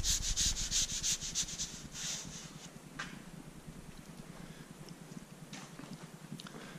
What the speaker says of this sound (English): And like dusty dirty up here on top. And one towel seems to go a long ways.